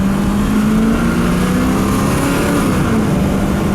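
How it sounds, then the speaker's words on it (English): A 1989 Ford F-350 crew cab with its 7.5L 460 V8 drones steadily while driving, a loud sustained engine hum with a faint slowly shifting pitch and road noise throughout. "try to give you an idea on just how nice this truck runs"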